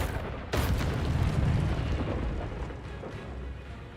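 An Expelliarmus spell in a Harry Potter video game hits with a sudden loud burst, followed by a sustained roaring rumble that slowly fades, with no talking.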